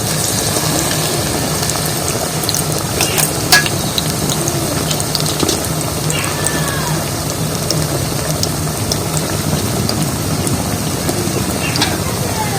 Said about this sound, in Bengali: আর ভাজার সময় কানাটা যদি সমান করে নেওয়া যেত